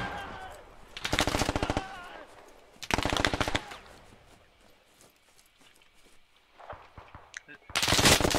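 Rapid bursts of automatic gunfire in the Squad military shooter game, several loud rattling volleys separated by quieter gaps with scattered distant shots.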